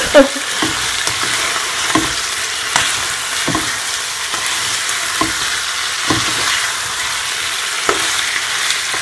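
Chicken sears in a hot pan for Jamaican stew chicken, giving a loud, constant sizzle broken by the scrape of periodic stirring, with no voices.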